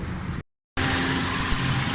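A Suzuki Alto 1000cc VXR engine runs steadily after starting, a close continuous idle drone that cuts out briefly to silence then resumes just as even.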